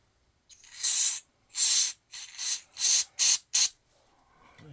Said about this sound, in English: I'm going to clean this with a contact cleaner.